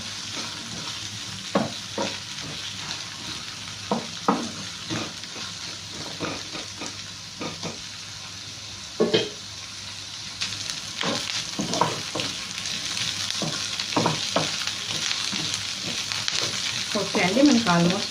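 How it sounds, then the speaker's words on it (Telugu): Vegetables for a drumstick curry stir-frying in a pan, a steady sizzle broken by repeated scraping and clinking of a spatula against the pan, close and fairly even throughout. "ఫ్రై అయిపోయాయి ఒక్క వన్ మినిట్ వదిలేస్తే చాలు స్టవ్ ఆఫ్ చేసేస్తున్నాను"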